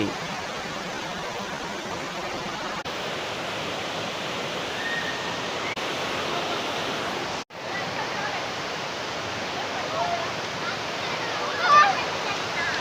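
The Sivakona waterfall beside the Rapur ghat road roars as a steady, broad rush of falling water, constant and fairly loud throughout, with a brief dip partway through.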